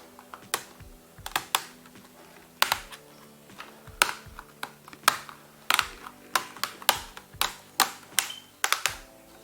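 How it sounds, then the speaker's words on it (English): A laptop keyboard being pressed back into place during a repair, a series of sharp plastic clicks and snaps at irregular intervals, picking up pace toward the end, close and with no talk. "Once that is done, we can then put back our keyboard."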